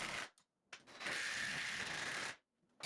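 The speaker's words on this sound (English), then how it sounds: "I used some long 1/4-inch lag screws to attach the walls to my existing wall studs." A ratchet wrench drives long 1/4-inch lag screws into wall studs while framing a shop grinding room, giving a few quick clicking bursts and then one sustained ratcheting run, close and fairly quiet, with no talking.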